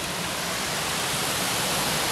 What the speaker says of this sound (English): River there.